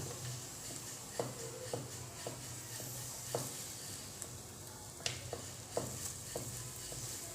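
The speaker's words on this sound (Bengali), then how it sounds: "এবার আমি যে ডিমের মিশ্রণটা তৈরি করেছিলাম এটা এর মধ্যে চামচ দিয়ে দিয়ে দেব।" Beaten egg mixture spooned onto a paratha frying in a pan, a faint steady sizzle with soft scattered taps and clinks of the spoon.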